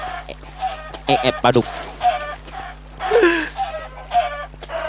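Chickens in the video game Minecraft give several short, clear clucks spread across the moment, with excited voices talking over them.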